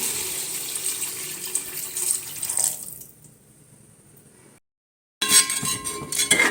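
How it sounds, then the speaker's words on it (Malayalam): Water runs and splashes into a cooking pot for a few seconds, then stops; after a short silence, clinking and running water resume nearby. "ആവശ്യത്തിനുള്ള വെള്ളം ചേർത്ത് കൊടുക്കാം."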